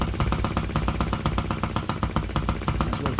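A miniature working replica of a 1950s Japanese OKMO model engine runs flat out at full throttle, a fast, steady, rhythmic buzzing chatter with even pulses, close and loud throughout.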